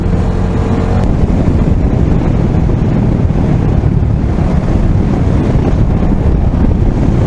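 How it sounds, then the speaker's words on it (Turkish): Strong wind roars constantly across the microphone during a road trip through a canyon area, a loud, unbroken buffeting rush with no voices. "Hem serin bak püfür püfür esiyor. Sağdan soldan püfür esiyor."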